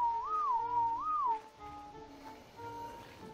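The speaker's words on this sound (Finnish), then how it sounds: "niin mä vihelmoin" Two rising-and-falling whistles from a player in ARK: Survival Evolved calling a tamed creature to stop, each clear and close, followed by quieter in-game background sound.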